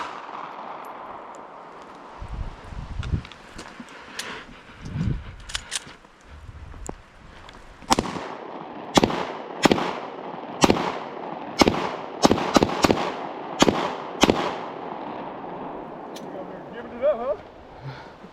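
A 12-gauge shotgun, 9mm and Glock 19 pistols fire at a shooting range, a string of about a dozen sharp loud bangs spaced irregularly in the second half. Earlier there are scattered thuds and talk from people nearby.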